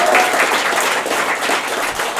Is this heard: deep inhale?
no